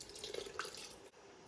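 Chicken broth pours steadily into an Instant Pot with a soft gurgle and splash, close by, then cuts off near the end.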